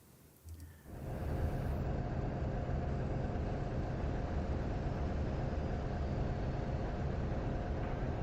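New York Central locomotive engines idling in Train Simulator Classic on the Boston to Albany route, a steady loud low diesel rumble that rises after a brief quiet start and then holds unbroken, with no talk.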